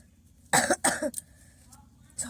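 A person coughs in the cold morning air while harvesting raw turmeric in a garden. There are two harsh, close coughs, then a brief throat-clearing and quiet breathing.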